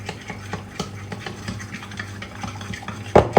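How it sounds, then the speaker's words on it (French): Gluten-free, dairy-free cookie dough is stirred in a bowl, giving close, steady scraping and soft thuds of a utensil against the sides, then a few louder knocks near the end. "Et là, bah, vous mélangez tout simplement."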